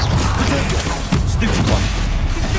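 Bombarda spell explosions in Hogwarts Legacy, a loud continuous barrage of booming blasts and crashing thuds layered over dense rumbling noise.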